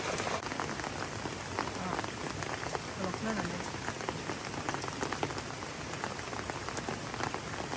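Steady rain falls on surfaces outdoors in a mountain forest setting, a dense, continuous patter of drops that runs evenly throughout.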